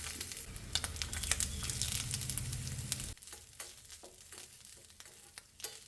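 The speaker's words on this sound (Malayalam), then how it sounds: "ഇനി അതിലേക്ക് നാളികേരക്കൊത്ത് ചെറുതായിട്ട് മുറിച്ചതാണ് അതൊന്ന് വറുത്തെടുക്കാം" Small coconut pieces sizzle loudly in hot ghee at first, then settle into quieter crackling with occasional stirring scrapes.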